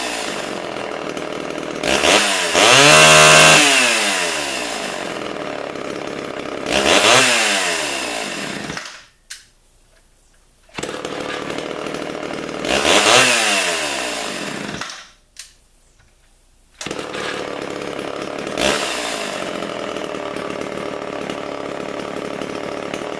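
A 1997 Homelite Super XL chainsaw, a big red model, roars loudly and close in several throttle bursts, climbing in pitch and dropping back to idle, with two brief silences where the engine cuts out.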